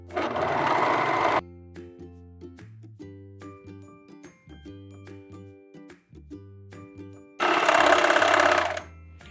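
A sewing machine stitches the sleeves into a t-shirt dress in two loud, fast whirring bursts at the start and end, with quiet musical tones playing in the pause between them.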